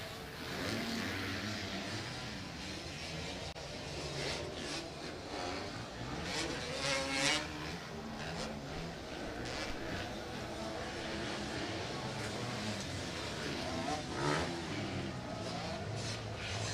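Motocross motorcycles including a KTM racing at a senior club meeting, a dense continuous roar of engines revving and surging at mid distance, with a commentator's voice partly mixed in.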